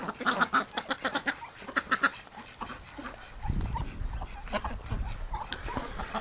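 Ducks in a pen on a cold, windy morning give repeated nasal quacks at close range, overlapping in bursts, with gusty wind noise rumbling underneath later on.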